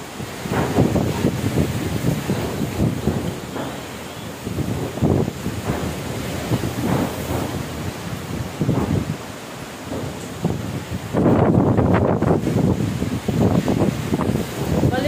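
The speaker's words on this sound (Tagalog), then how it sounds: "Hangin." Strong, roaring typhoon wind buffets the microphone in continuous gusts, with a heavier blast near the end; no voices are heard.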